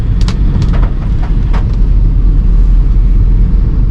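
A car runs steadily in fourth gear along a narrow road in the rainy season, giving a loud, even engine and road rumble throughout, with a few faint clicks early on.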